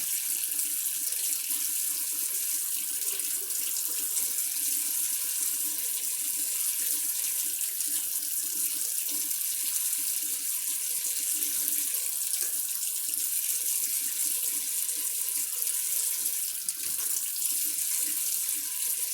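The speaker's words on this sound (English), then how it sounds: "Then we add 4 tablespoons of hot water." Hot water runs steadily from a tap in a continuous hissing stream, close by and fairly loud, with no pauses.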